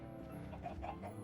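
Chickens clucking in the video game Minecraft, a few soft, brief clucks that are faint and close, set over a low background hum.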